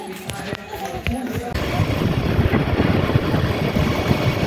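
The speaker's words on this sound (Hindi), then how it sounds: "आज कार पे नहीं आके देखो बाइक पे आए हैं" A motorcycle runs steadily while being ridden in India, its engine rumble and wind noise loud and continuous after a brief stretch of talk and rustling at the start.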